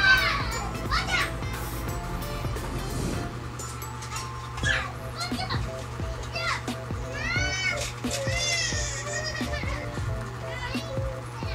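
A crowd of children plays noisily nearby, with overlapping shrieks, chatter and high squeals over steady background hum and occasional thumps throughout.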